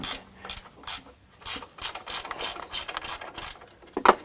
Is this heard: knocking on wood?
no